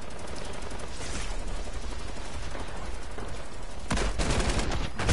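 Gunfire in the video game Fortnite, including a sniper shot, comes as a dense, continuous crackle of distant shots, then a louder burst of closer reports near the end, with no talking.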